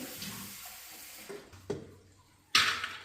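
Soaked cowpeas being rinsed in water: a few short splashes and trickles, ending in a louder rush of water near the close, fairly close and moderately quiet with no talking.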